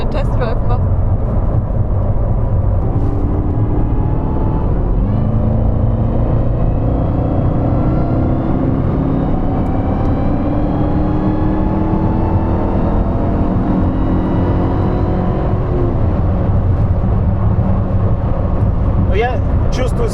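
A matte Mercedes SLR McLaren 722 S accelerates hard on a test drive, its engine note climbing steadily in a loud, constant roar, with people talking over it.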